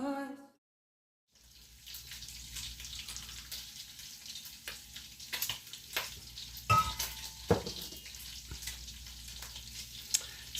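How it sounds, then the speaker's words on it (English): Bacon frying in a pan on a kitchen stove, a quiet steady sizzle with a few sharper pops and crackles, alone with no talking. "So, bacon's still cooking."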